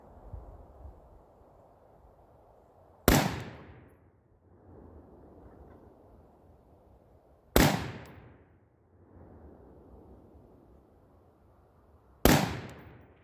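Three loud rifle shots from a DDM4v7, each a sharp crack with a decaying tail, spaced about four to five seconds apart over quiet outdoor background noise.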